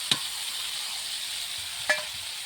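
Whole spices such as cinnamon, cardamom, ginger, cloves and dried chili with turmeric and salt sizzle in hot oil, a steady soft frying hiss marked by two brief sharp crackles as they hit and stir.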